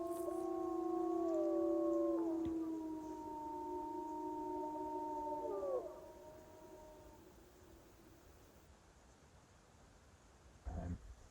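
Several wolves howl in the distance on a wintry off-grid property, long overlapping wavering cries that rise and fall for about seven seconds before fading into quiet background hiss, with a brief soft knock near the end.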